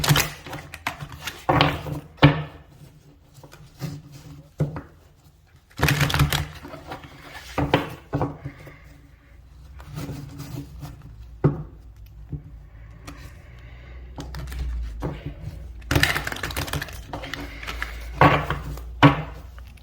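Cards are shuffled in irregular bursts of soft riffling and tapping, with quiet pauses between, close up and fairly gentle.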